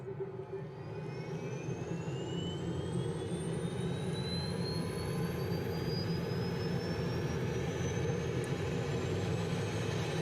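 A Goshawk jet engine spools up in Microsoft Flight Simulator, a steady loud whir with two rising whines climbing in pitch as the engine gains speed, heard alone.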